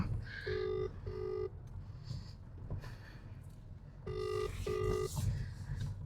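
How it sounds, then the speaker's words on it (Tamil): A phone rings for an outgoing video call with two paired electronic tones, repeated twice and separated by a pause. The tones are clear over faint background noise. "ஸோ இப்போ வந்து வீடியோ கால் பண்ணோம்மா"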